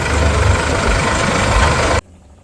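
A tractor engine idles on a wheat farm with a loud, steady low rumble and chug that runs evenly, then cuts off abruptly near the end, leaving near silence.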